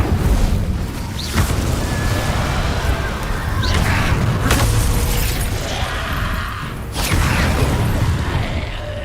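Fire spells go off in Hogwarts Legacy gameplay as three loud, near bursts with a crackling, whooshing edge, spaced a few seconds apart over a constant rumbling bed of battle noise.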